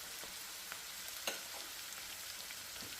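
Curry leaves sizzle in a pan with onions frying to golden brown, a soft, even hiss with a few faint pops and one small sharp crackle, fairly quiet and steady.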